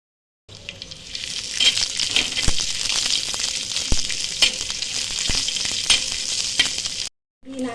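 Onion roasts in oil in a pan for Nagari-style chicken rassa, a loud, close sizzle with scattered pops and scraping stirs, starting after a brief silence and cutting off near the end.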